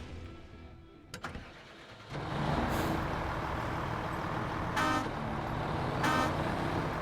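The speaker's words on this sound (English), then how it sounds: "All of these new trucks have way better horns to them." International truck horn in SnowRunner, sounding two short blasts over a steady, loud diesel engine rumble that starts after a brief quiet idle with a few clunks.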